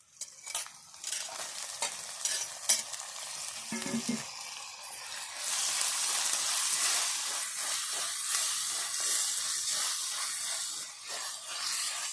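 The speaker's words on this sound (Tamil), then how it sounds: "இப்போ தக்காளி பழமும் பச்சை மிளகாவும் சேர்த்துக்கலாம்" Tomatoes and green chillies tipped into a pan of well-fried onions, stirred with scraping clatter before a steady loud sizzle and hiss takes over for the rest, no talking.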